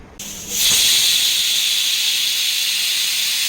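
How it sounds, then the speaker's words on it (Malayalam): Steam hisses loudly and steadily from a pressure cooker cooking egg curry with coconut milk, starting abruptly and holding for about three seconds with no talking. "നമ്മൾ കുക്കർ അടച്ചു വെച്ചിട്ടുണ്ട് നമുക്ക് രണ്ട് വിസിലടുപ്പിച്ച് വേവിച്ചെടുക്കാം"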